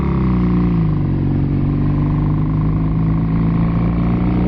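A Kawasaki KZ750 motorcycle engine drones loudly and steadily while riding in a high gear, a close, continuous humming roar with no break and no voices.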